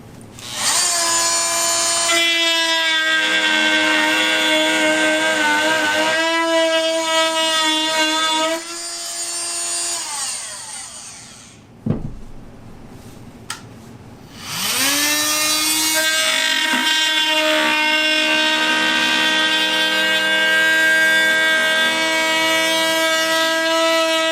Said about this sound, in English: let's cut a little plywood and just see how they each feel, starting with the Dremel